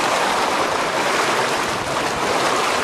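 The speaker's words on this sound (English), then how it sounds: "We're gonna ford the river" Vehicle fording a river at Pedro Mountain, water rushing and splashing hard against it in a loud continuous spray with no talk.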